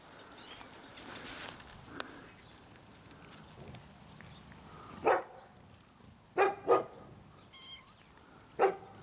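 A dog barks a few sharp times at a distance outdoors, the barks spaced out over quiet rustling background with faint birds.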